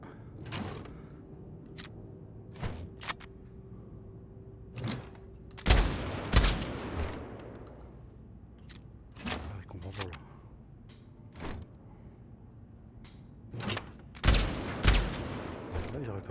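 Gunfire in the VR shooter Blood & Truth, with scattered single shots and short bursts cracking sharply at irregular intervals and a few louder clustered volleys, close and punchy.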